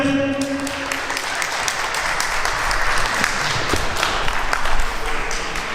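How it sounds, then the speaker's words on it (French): Audience applauding at a press conference, a dense sustained burst of clapping heard close and loud, with a brief tonal hum at the start. "qu'on peut une nouvelle fois applaudir."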